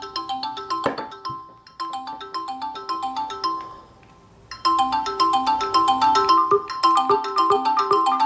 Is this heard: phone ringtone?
yes